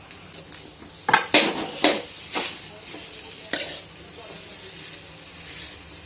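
Dates are stirred and sautéed in a pan for dry-fruit gulkand laddoos. A spoon knocks and scrapes against the metal several times in quick, uneven strokes over a soft sizzle, then the strokes fade to gentle stirring.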